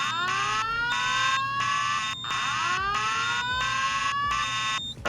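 A Simplex fire alarm system sounds in a building, a loud, rapidly repeating electronic whoop tone that sweeps upward in regular bursts separated by short gaps, with no talking.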